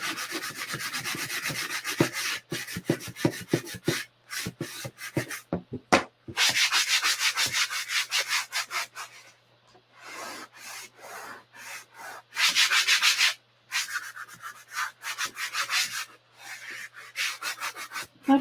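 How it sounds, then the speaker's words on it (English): A sanding block rubs back and forth across a wooden pallet board in close, rhythmic scratchy strokes, quick short passes at first, then longer sustained rubs separated by brief pauses. "love these sanding blocks. They make it so easy to distress things."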